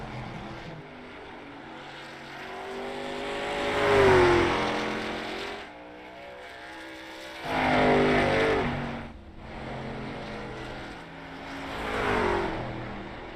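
Race car engines roar in a short-track sim racing game, with cars passing in three separate swells that rise in pitch and then fade between gaps of lower engine drone.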